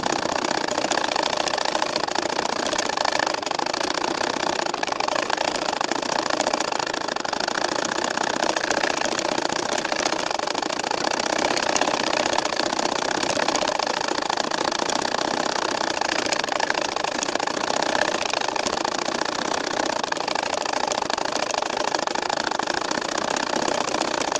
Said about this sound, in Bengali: এখন দেখো এই যে আমি কিন্তু একইভাবে কিন্তু সেলাইটা করেই যাচ্ছি